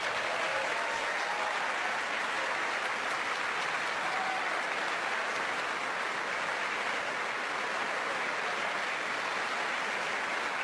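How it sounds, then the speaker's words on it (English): Steady applause from a large audience at a televised political address, a dense continuous wash of clapping that holds evenly for about ten seconds with no voices over it. "Tanya, what was that sarcastic little clap?"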